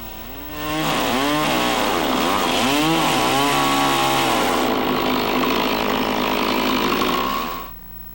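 Chainsaw cutting the end of a log post for a cabin, the engine revving up and bogging down through the wood in rising and falling whines, then steadying before quickly dropping off at the end.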